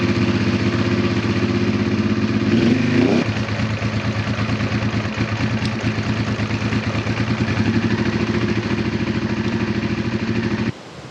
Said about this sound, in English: let's flick on the pump